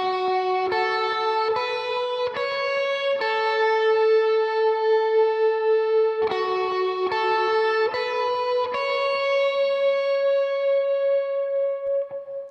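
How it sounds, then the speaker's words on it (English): Electric lead guitar plays a simple chorus line from a song, clean sustained notes stepping up and down in a slow melody, loud and alone, ending on a long ringing note. "for chorus one, we'll have a pretty simple lead line that we'll play"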